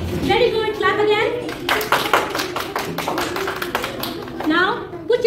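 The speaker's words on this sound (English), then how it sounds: "Clap again." Children in a school classroom clap their hands together in short bursts of rapid claps, close and fairly loud, with an adult's voice speaking between the bursts.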